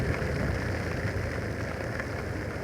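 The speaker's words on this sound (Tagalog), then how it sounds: "Grabe yung ulan, walang tigil, walang poknat." Heavy, steady rain pours without letup, a dense close hiss of water drumming on surfaces.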